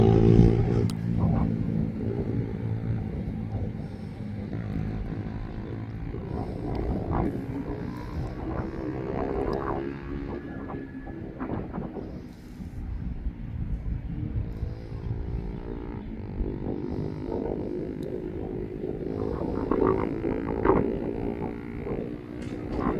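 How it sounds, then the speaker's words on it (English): Jet engines on an Antonov cargo aircraft spool up at an airport, a low, rumbling whine and roar that persists at a distance under intermittent talk. "Sounds like the jet engines are starting up on it."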